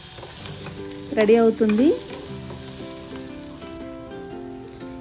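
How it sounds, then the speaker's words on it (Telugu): Broad beans (chikkudukaya) fry in a pan with a soft, steady sizzle beneath background music, while a voice speaks briefly partway through. "1 నిమిషం పాటు ఫ్రై చేసుకుంటే చిక్కుడుగాయ ఫ్రై"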